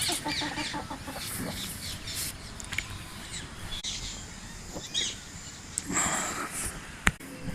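Native country chickens and roosters cluck intermittently against a noisy rural outdoor background, with scattered short calls and no talking.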